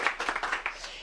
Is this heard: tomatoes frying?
no